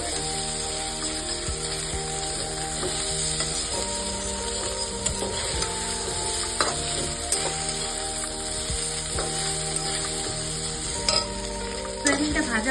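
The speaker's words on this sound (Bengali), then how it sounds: "সয়াবিনটা ভাজা প্রায় হয়ে গেছে" Soybean chunks fry in a little oil in a wok over lowered gas heat, sizzling steadily while a spatula scrapes and stirs them in irregular strokes throughout, close and fairly loud with no talking.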